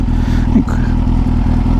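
A 2004 Daytona 600 motorcycle engine idling up close, loud and steady with a rhythmic low throb and slight rattle.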